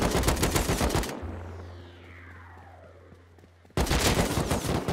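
Gunfire bursts erupt in the survival video game Rust, with dense rapid shots at the start, then a quieter gap with a low hum and a falling whoosh, before loud rapid fire resumes near the end.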